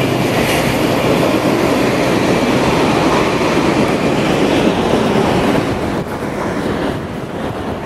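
A train rumbles past steadily at a Bay Area railside, a broad, loud roar with wind buffeting the microphone that eases slightly near the end.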